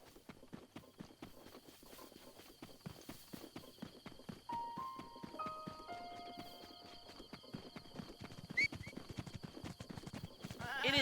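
Horse hooves clip-clopping in The Legend of Zelda: Breath of the Wild, a quiet rapid galloping rhythm of steady thuds, with a brief whinny and faint game music tones over it.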